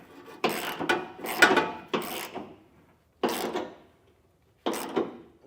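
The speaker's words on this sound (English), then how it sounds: "We'll snug these bolts down using a 15/16 size socket" A ratchet socket wrench with a 15/16 socket snugging bolts on above-bed base rails, several separate bursts of rapid clicking ratchet strokes with short pauses between, close and fairly loud.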